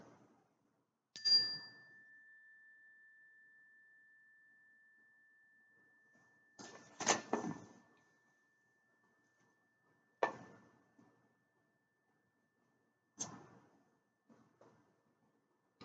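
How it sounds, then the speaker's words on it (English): A single clear bell strike rings out and fades slowly over many seconds, with a few scattered taps and clatters breaking the quiet afterward. "See how long this bell lasts when you're just paying attention to the sound of the bell."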